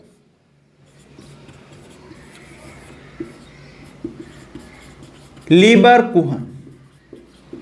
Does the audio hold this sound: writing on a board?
yes